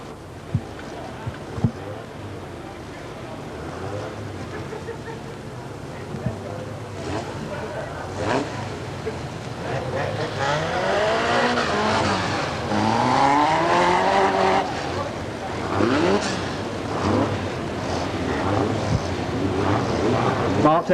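A field of 33 Formula 2 race cars roars away from a green-flag start on a circuit, engines rising and swelling as they pass nearby, while a commentator talks over the noise throughout.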